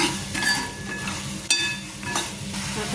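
Fried soybeans stirred with green chili sauce in a hot pan give a steady close sizzle, broken by a few sharper spatula scrapes and clinks against the metal.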